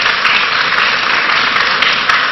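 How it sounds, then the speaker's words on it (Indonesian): Studio audience on an Indonesian health talk show applauds a doctor being welcomed, a loud, dense and unbroken wash of clapping lasting a couple of seconds. "Beri tepuk tangan buat Dr. Rianto."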